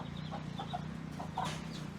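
Hens and chicks cluck outdoors on a small spring homestead, soft repeated clucks and peeps in an irregular rhythm over a low steady background, faint and a little distant.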